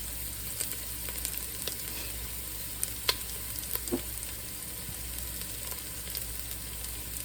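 Potatoes fry quietly in a skillet while browning, with a low continuous sizzle and occasional light crackles and pops, no talking.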